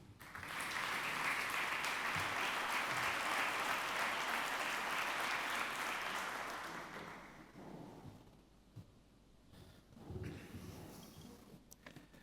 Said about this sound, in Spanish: damos un fuerte aplauso para nuestro invitado de hoy